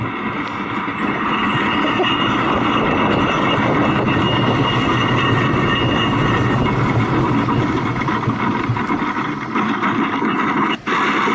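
A car on Cliffside Coaster, a long mountain coaster, rolling through and down the finish curve, producing a continuous loud rumbling roar of wheels on track, steady from start to finish with a brief dip near the end.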